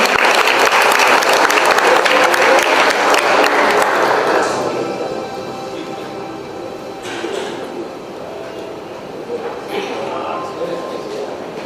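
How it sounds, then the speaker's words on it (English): At an event for Asian Para Games delegates, an audience gives loud, dense applause for about four seconds. It then fades to a thinner scatter of claps over murmuring and room noise. "Ladies and gentlemen, please a round of applause for this beautiful moment."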